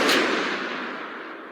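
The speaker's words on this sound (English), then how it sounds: "A single gunshot" A single gunshot in a luxury Manhattan hotel bathroom: one sharp, loud crack at the start, trailing into a long reverberant echo that fades slowly over about a second and a half.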